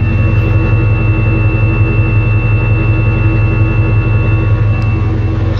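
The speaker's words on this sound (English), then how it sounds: "Definitely sounds like a V8 now." A lifted van's V8 engine runs steadily up close with a throaty, deep low rumble, alone and unbroken throughout.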